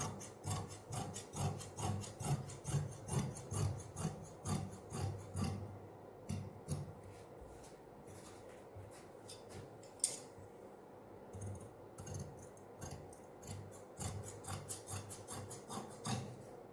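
Scissors cut through fabric for palazzo trousers with a quick run of rhythmic rasping snips up close, then slower, sparser cuts and soft handling rustle.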